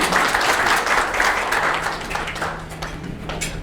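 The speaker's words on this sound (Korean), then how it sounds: "박수로 환영해 주십시오." At a forum on Korean music, the audience welcomes the ensemble's leader with loud, sustained applause that thins slightly toward the end while scattered claps continue.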